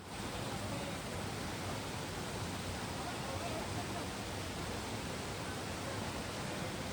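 Steady, dense rushing water flows without pause, a broad continuous roar like a river, from the low-flowing stream at Kalu Waterfall.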